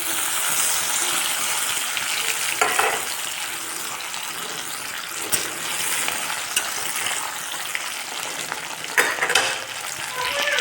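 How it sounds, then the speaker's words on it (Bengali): Tomatoes and cumin fry in a pan with a dense, constant sizzle and crackle, broken by occasional louder stirring scrapes. "তো জিরা আর আমি টমেটো ভাজি নিচ্ছি"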